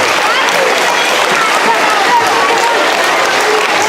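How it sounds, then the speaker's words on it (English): A large audience breaks into loud, sustained applause that fills the whole stretch, dense and steady with a crowd murmur mixed in. "give yourself a huge round of applause"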